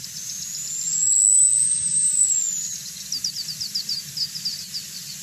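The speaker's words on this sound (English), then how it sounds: "The next song is a Blackpoll Warbler." High, thin Blackpoll Warbler song: a rapid series of very high-pitched, evenly spaced ticking notes that swell slightly in the middle, heard over a low background hum with a faint sustained whistle earlier.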